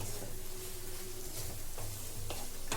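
Sweet mango pickle sizzling in a pan on a low gas flame while a spoon stirs it, a steady soft fry with a few scraping strokes, close and quiet without speech.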